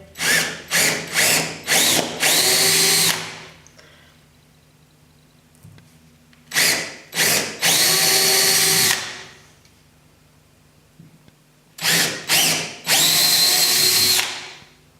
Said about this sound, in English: now what we're going to do, we're going to go and drill those holes